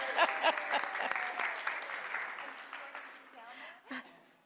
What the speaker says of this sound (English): you have to stand and accept your applause.